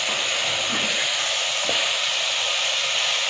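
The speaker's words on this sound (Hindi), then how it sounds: "तो अब इसमें मैं सब्जी डाल देती हूँ" Tinda vegetables tipped into a pan of browned, sizzling meat for tinda gosht, giving a loud, steady hiss of frying that holds evenly throughout with no talk.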